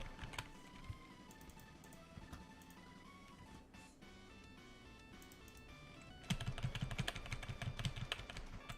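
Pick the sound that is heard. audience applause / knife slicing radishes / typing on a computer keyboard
typing on a computer keyboard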